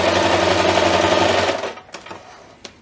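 Sewing machine stitching across fabric layers for a pie-shaped bunting, a close, steady rapid whirring hum for about a second and a half that winds down and stops, followed by a few faint clicks.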